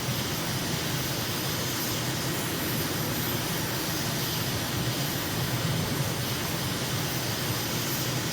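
Steady aircraft engine drone from a plane flying over an airport near Ankara, Turkey at dusk in Microsoft Flight Simulator, a constant broadband roar with no breaks and no talking.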